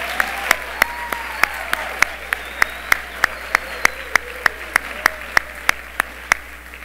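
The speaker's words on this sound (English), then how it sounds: "Let's give them another round of applause." Sustained applause from a school convocation audience of parents and guests, with a steady wash of clapping broken by regular sharp clicks.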